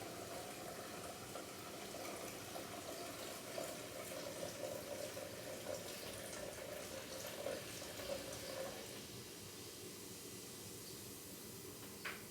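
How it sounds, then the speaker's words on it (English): Vinegar poured slowly onto baking soda for a homemade cleaning mix gives a steady, faint fizzing and bubbling hiss like running water, lasting several seconds and easing off near the end, with no talking. "now we're going to be adding the vinegar"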